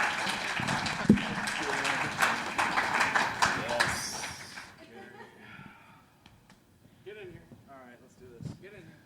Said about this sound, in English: Let's get a round of applause for Paul Duane.